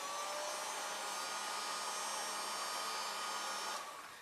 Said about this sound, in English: I'm also going to sneak this heat gun in